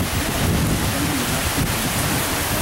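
Heavy rain pours down steadily over a seawall with thunder rumbling underneath, a dense, loud, continuous roar with no voices.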